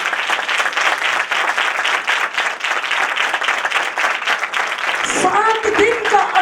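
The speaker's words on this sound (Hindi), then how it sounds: "आपको तालियों से यह हाल गूंज जाना चाहिए।" Loud, sustained applause filling a large room, steady throughout, with a voice rising briefly near the end.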